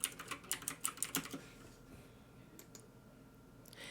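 Fast, light keystrokes on a computer keyboard sound close and quiet for about a second and a half, followed by a few scattered clicks in near silence.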